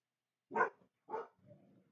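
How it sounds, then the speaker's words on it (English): Dogs bark twice in sharp, close barks about half a second apart, followed by a low, faint grumble. "Sorry about the dogs."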